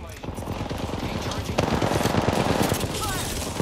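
Rapid automatic gunfire rattles in a multiplayer shooter video game, loud and continuous throughout, with players talking over the shooting.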